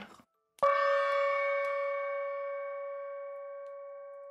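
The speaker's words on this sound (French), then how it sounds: "La cloche sonne 10 heures." A single bell strike for ten o'clock in a large council hall, a clear metallic clang that rings out and decays slowly over several seconds, preceded by a brief rustle.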